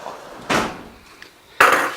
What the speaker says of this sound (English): Close the door, Kevin.